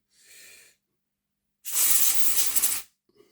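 Cleaner sprayed onto the dirty parts of a Hornby 0-6-0T Class 3F Jinty model locomotive: a short soft hiss, a pause, then a longer, louder spray burst, close by and without speech.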